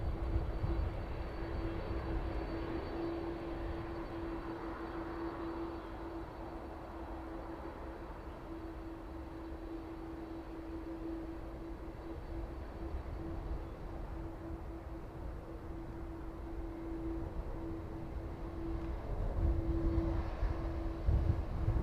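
Aircraft at East Midlands Airport in the evening make a continuous, moderately distant engine roar with a steady tonal whine that lasts throughout and swells slightly near the end.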